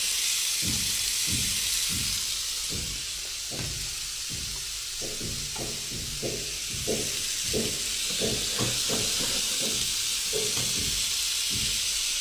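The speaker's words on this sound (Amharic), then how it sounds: "ስጋችንን ትንሽ ጋላ ያለ መጥበሻ ላይ እናደርገዋለን" Meat sizzles steadily in a hot pan, a loud continuous hiss dotted with rapid crackles and pops.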